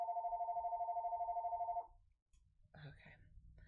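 A telephone rings with a steady, loud electronic trill for nearly two seconds, then stops; after a short pause, voices and soft movement noises follow.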